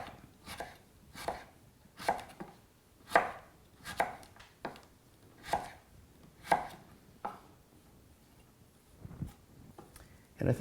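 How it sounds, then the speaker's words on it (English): A knife slicing crisp vegetables thinly on a board, a series of sharp, evenly spaced chopping strokes about once per second, close and clear, with some light speech between cuts. "I am going to slice them rather thinly"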